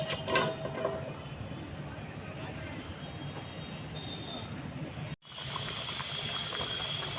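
Vegetable curry with cauliflower simmers in a covered pot, giving a faint, steady bubbling and hiss at low level, with a brief dip in the sound near the end.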